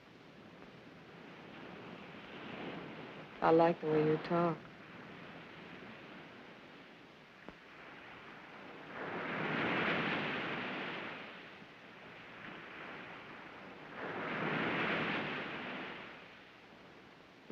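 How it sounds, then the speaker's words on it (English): Ocean surf rolls in as two slow, soft swells of broad wash, distant and hushed, after a brief line of spoken dialogue near the start. "You like the sound of the ocean?"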